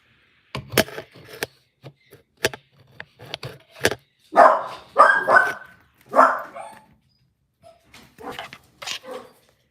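A dog barks close by in a string of loud, sharp barks and yips with short pauses between, some running into quick doubled bursts, with no other sound in the gaps.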